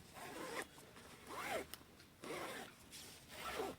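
A YKK zipper slider on outdoor pants slides along its teeth in about four separate raspy strokes, close and fairly quiet, with no talking.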